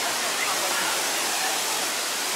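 Small waterfalls at Pozo Azul near Minca, Santa Marta, give a steady, dense rush of falling water that holds even and unbroken throughout, close by with no pauses.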